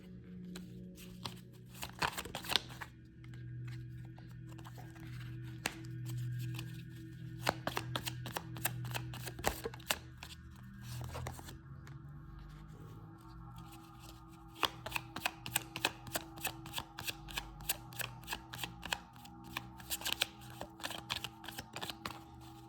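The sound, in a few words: shuffling oracle or tarot cards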